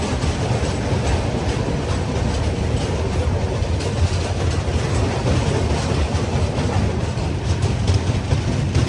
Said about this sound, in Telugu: కాగజ్ నగర్ ఎక్స్ప్రెస్ లోకోమోటివ్ దాటి వెళ్ళిపోతుంది మన ట్రైన్.